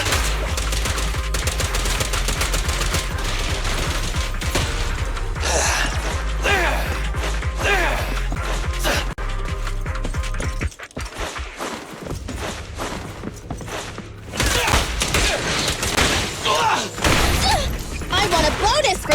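Rapid gunfire in the video game Zenless Zone Zero comes in dense, loud bursts and crashes over game music, pausing briefly near the middle before the shooting resumes.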